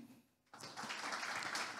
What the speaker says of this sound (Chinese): 接着下来，我们掌声不要停